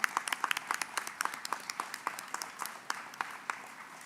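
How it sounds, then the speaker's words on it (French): A small group claps at a press announcement of federal funding for manufacturing innovation in Sherbrooke, giving distinct, fairly sparse hand claps at an irregular pace, moderately quiet and without voices. "je pense que ça vaut la peine qu'on fasse une bonne main d'applaudissements"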